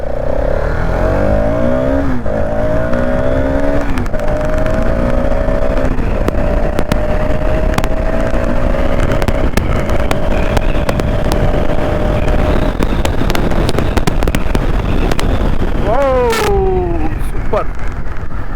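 A Hero Xtreme 250R motorcycle is ridden on a road, its engine droning loud and close, rising and falling in pitch through gear shifts, with wind rush throughout.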